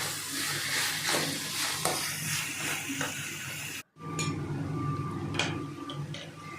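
Vegetables and biryani masala frying in a pan while being stirred, a steady close sizzle with light scraping ticks, briefly cut off for a moment before the frying noise resumes.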